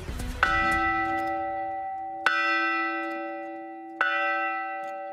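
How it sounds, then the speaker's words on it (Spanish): A church bell in the Galician village of Ribadulla rings three loud, resonant strokes about two seconds apart, each leaving a long, humming metallic decay that fills the gaps. "Las campanas suenan en Ribadulla"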